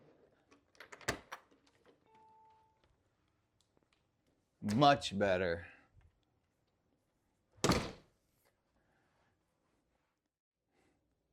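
A door swings on a freshly repaired hinge with no squeak, giving a few dull thunks and soft knocks spaced apart, with a brief voice speaking between them in a quiet room.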